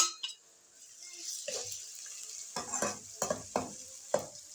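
Ginger garlic paste hits browned onions in a hot pan and fries with a crackling sizzle, broken by several close scraping stirs of a spoon against the pot, with no talking.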